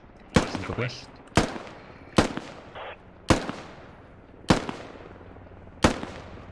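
Six loud, sharp rifle shots crack at roughly one-second intervals in the military shooter game Squad, each followed by a short echoing tail.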